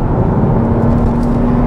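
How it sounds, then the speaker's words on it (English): A 2021 Toyota Avalon TRD sedan's engine holds a steady, loud drone near its red line, heard from inside the cabin as a constant hum with a fixed engine tone running through the whole stretch. "Hangs onto the revs, changes up. Right on the red line. Sounds good doing it."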